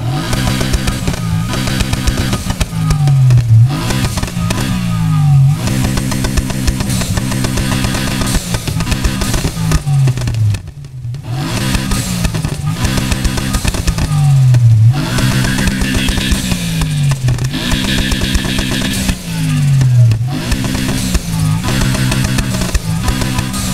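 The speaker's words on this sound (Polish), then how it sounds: "Czekaj, wydech. Posłuchajmy tego." A car's exhaust in the NFS Heat video game revs repeatedly, rising and falling through loud engine sweeps with a short lull midway, heard up close and without talk.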